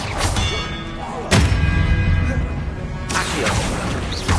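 Disarming spell impacts in Hogwarts Legacy: two sharp, heavy thuds about two seconds apart, each followed by a crashing whoosh, over steady game music and ambience.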